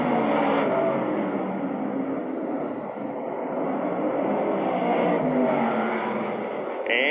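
Vintage race cars slow hard into turn one at the Melvin Joseph Memorial 2020 vintage racing event, their engines a loud, continuous roar of several cars together that holds for the whole stretch.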